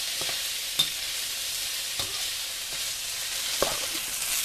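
Tofu for General Tso's tofu stir-fries in a hot pan with a steady bright sizzle, broken by occasional scraping clinks of a utensil stirring, close and fairly quiet.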